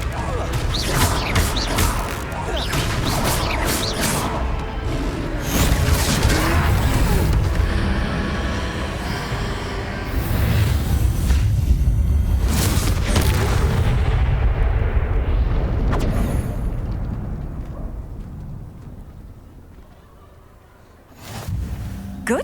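A Confringo fire spell blasts during a troll battle in Hogwarts Legacy, heard as a dense, loud roar of booming impacts and crashing debris that sustains for most of the stretch before thinning out near the end.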